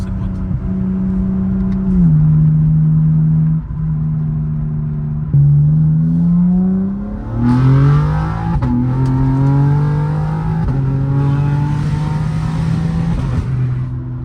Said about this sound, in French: Voilà ce que ça donne, une petite accélération.